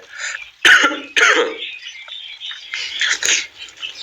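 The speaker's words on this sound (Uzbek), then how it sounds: "o'yinda ko'p yo'talyapman" A person coughs and clears their throat in a few harsh, close bursts, separated by quieter breathy sounds.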